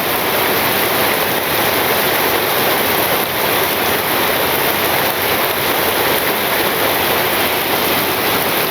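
Heavy rain pours steadily on a rural Bangladeshi village on a wet day, a dense, unbroken roar of falling water that stays loud and even from start to finish with no voices.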